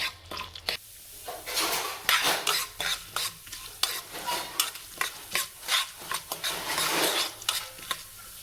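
Chana dal, urad dal and moong dal roasting in oil in a pan for coconut chutney, with a steady sizzle broken by repeated rhythmic scrapes and clinks of a spoon stirring against the pan, close and fairly quiet.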